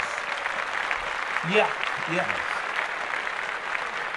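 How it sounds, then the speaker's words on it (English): Several people clap together in a podcast studio, giving steady, close applause throughout, while a man briefly calls out over it. "I'm gonna clap them up again."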